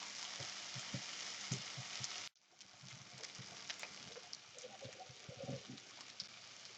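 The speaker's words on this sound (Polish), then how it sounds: "Tradycyjnie smażę jak wszystkie kotlety mielone po około 2-3 minuty z każdej strony." Oil sizzles and crackles steadily in a pan frying chicken cutlets with cheese and carrot, with a brief cut midway before the frying resumes, scattered pops over continuous hiss.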